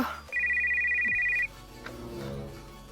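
Telephone ringing before a call is answered: a single electronic ring tone lasting about a second, fairly close, followed by quiet room sound and a faint voice.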